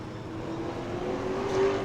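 A super late model race car on a qualifying lap at New Smyrna rises in a steady engine drone, growing louder and nearer over a couple of seconds as it passes.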